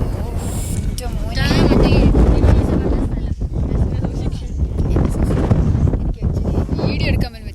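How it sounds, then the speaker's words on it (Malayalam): Strong wind buffets the microphone at a hilltop spot, with loud gusty rumbling that rises and falls throughout while people talk over it. "ഈ സ്ഥലം നല്ല കാറ്റ്."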